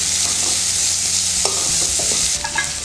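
Onion, capsicum and grated beetroot sautéing in a pan, a steady close sizzle under repeated scraping stir strokes, ending in a few clinks of the spoon against the pan, with no voices.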